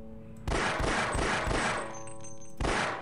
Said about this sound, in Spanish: Eran cuatro tiros.